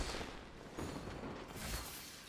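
Bursts of fireworks in the video game Genshin Impact crackle and boom in quick succession, dense and rumbling, with a low roar filling the gaps and no talking.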